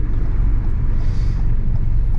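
Stock exhaust of a 270 bhp Ford Fiesta ST2 hatchback warming up, a steady, loud low rumble close by that holds evenly throughout with no break.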